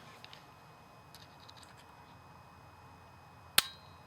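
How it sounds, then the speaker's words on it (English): A single sharp metallic click from the action of a 1938 Luger pistol being worked, heard once, close and distinct, after a long stretch of quiet room hiss. "You can't hear the click"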